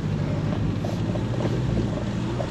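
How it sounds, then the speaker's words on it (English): A Ford Bronco climbs up through a ditch off-road, its engine giving a steady, loud rumble with continuous broadband roar and wind buffeting throughout, no voices. "I was intentionally driving up through that ditch just to get it to break traction"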